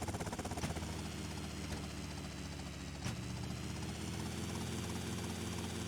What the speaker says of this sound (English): the heli moved backward that time